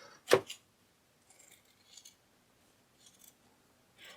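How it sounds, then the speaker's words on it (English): Fabric scissors trim excess seam allowance from a plush dragon: one sharp, loud close snip, then several faint, sparse cutting clicks and rustles in a quiet room. "I'm going to trim off the excess seam allowance and fabric around the edges."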